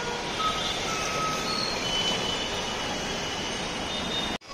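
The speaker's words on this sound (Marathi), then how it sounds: "हे बघा ट्रॅफिक दाखवली तुम्हाला" Road traffic with a truck reversing, its repeated reversing beeps sounding over a steady, fairly loud engine and traffic roar that cuts off sharply at the end.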